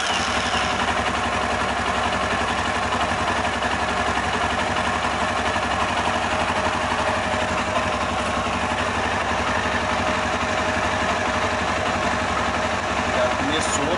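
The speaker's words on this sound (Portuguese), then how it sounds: "Vou acionar a partida da motocicleta." A Honda CB 300R motorcycle engine runs at a steady idle during a fuel injection service, a constant mid-low hum and vibration close by for the whole stretch, with someone talking over it.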